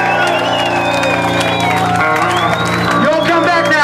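A crowd at a live band gig in a hotel bar claps, cheers and whoops steadily, with amplified instruments humming underneath and loud shouting over the top.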